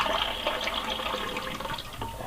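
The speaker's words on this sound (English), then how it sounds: "I'm going to add some water," Water pours steadily into a pot holding quinoa and amaranth with a pinch of salt, a continuous close splashing fill lasting a couple of seconds with no talk.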